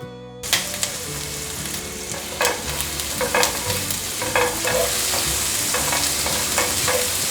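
Ginger stir-frying in sesame oil, a loud close sizzle that builds steadily while a spatula scrapes and knocks against the pan at irregular intervals.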